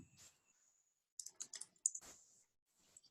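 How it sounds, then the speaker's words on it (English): Sparse bursts of clicking keystrokes on a computer keyboard, a few quick taps then a short flurry, separated by silence, close and fairly quiet. "Leah, I'm typing that"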